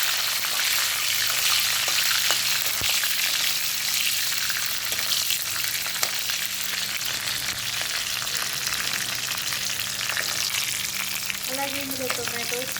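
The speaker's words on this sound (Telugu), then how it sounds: "సో ఇప్పుడు ముందుగా కట్ చేసి పెట్టుకున్న పచ్చిమిర్చి వేస్తుంది." Sliced green chillies fry in hot oil for a tomato curry, giving a loud, dense, continuous sizzle with a few sharp crackles, steady from start to finish.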